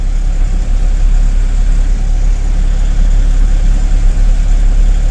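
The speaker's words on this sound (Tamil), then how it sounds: "டீ குடிக்கிறப்ப நிறுத்துவேன், வண்டி ஆஃப் பண்ணலை, ரன்னிங்லேயே இருக்கும்." A 3-ton lorry's engine is left running while it stands still at a tea stop, a loud, close, steady low idling rumble that carries on without a break.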